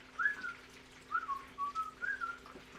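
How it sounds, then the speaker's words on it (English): A person whistles a short melodic tune, a few clear sliding notes in separate phrases, soft and close in a quiet room, with no talking. "Just purse your lips and whistle"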